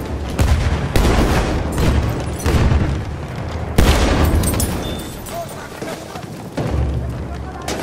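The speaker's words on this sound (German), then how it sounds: "Aufpassen, Granate raus!" Battlefield 1 combat with repeated booms and gunfire bursts, dense and loud throughout, while several players shout over the battle noise.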